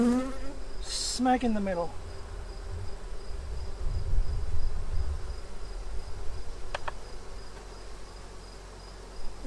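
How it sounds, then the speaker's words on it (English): Honey bees buzzing steadily around an opened hive during a hive inspection, a continuous close insect drone with a brief spoken phrase near the start. "This will entice the bees to build more comb faster for the queen to put her brood in."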